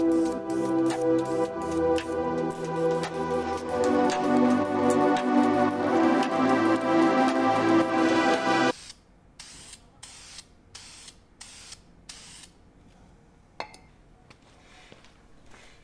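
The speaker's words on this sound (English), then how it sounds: "I'm gonna go ahead and start spraying it." Primer is sprayed from an aerosol can onto a custom AEM intake pipe for a Camry XSE: a run of short, close hissing bursts with brief pauses between them, following a stretch of music.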